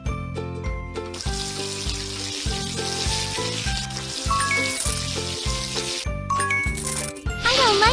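Running water and splashes as a cat's paws are rinsed in a kids' cat day-care video game, over bouncy looping game music with bright chimes and jingles.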